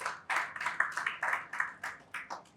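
Scattered hand clapping from a small audience at a Nigerian corporate awards event, a dozen or so distinct sharp claps in a loose, uneven rhythm, fairly quiet and close.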